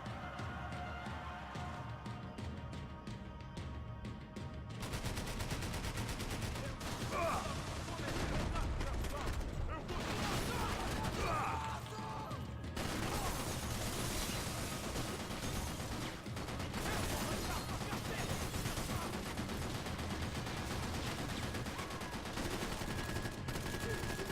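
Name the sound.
gunfire in the video game Max Payne 3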